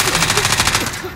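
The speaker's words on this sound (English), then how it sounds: "Oh, I'm being shot at." Rapid automatic gunfire from Call of Duty: Modern Warfare, a steady stream of close, loud shots filling the whole moment with no voices over it.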